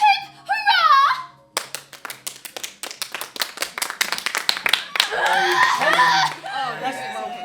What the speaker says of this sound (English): A round of applause for Mr. Norman Engelbach